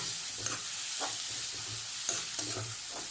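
Onions and tomatoes with turmeric sauté in a pan, a dense steady sizzle with rhythmic scraping strokes of a spatula stirring close up, with no talk.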